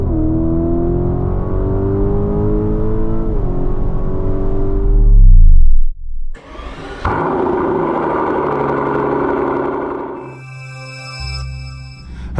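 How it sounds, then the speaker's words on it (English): Lamborghini Urus SE V8 hybrid accelerating on the German Autobahn, a loud, steady engine note rising through the gears, a brief lull near the middle, then a dense, strained roar that continues to the end. "Let's start with the Autobahn run and driving."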